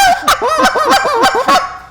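A hand-blown goose call mimics a goose with a quick series of about six loud, close honks, each a sharp rising cluck falling into a short moan, with no other sound.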